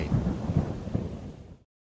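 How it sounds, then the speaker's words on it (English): Deep rolling thunder from a storm rumbles loudly under a hiss of rain, then cuts off abruptly into silence, used as a dramatic sound effect in a children's story. "a terrible storm came"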